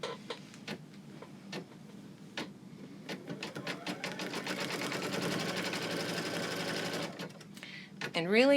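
An embroidery machine stitches an in-the-hoop sewing pattern weight, starting with separate ticks and building into a fast, steady mechanical chatter before stopping, with someone talking over it.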